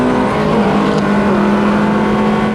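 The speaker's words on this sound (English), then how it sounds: "look at this speed as he blows by me on the straight" A race car blows past on a track straight, its loud engine a steady high-revving drone close by with a brief whoosh partway through, no talk.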